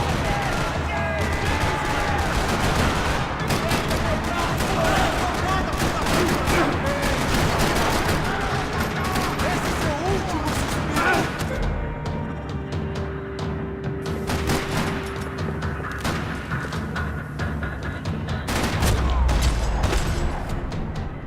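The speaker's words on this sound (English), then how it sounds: "Another parking lot rattling with gunfire." Gunfire rattling across a parking lot in Max Payne 3, dense continuous bursts of automatic weapons and sharp shots, loud and close, with occasional booms throughout.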